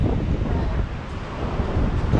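Strong, steady wind buffeting the microphone around a rocky coastal point by sea caves, a continuous low roar with gusty rumble throughout and no clear voices.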